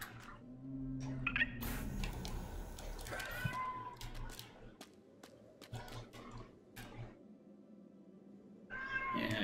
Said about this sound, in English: I hear a yelly cat.